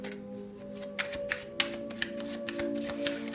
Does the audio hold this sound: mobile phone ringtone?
no